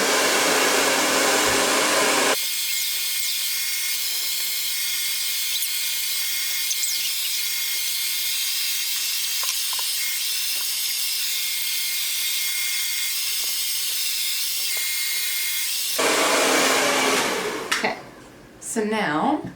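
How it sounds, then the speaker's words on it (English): A hair dryer on the hot, high setting roars steadily and close while blow drying hair, its airflow changing tone in the middle stretch before returning full blast and then clicking off. "I keep it on hot and I start it on high, and then I will just start to blow dry my hair"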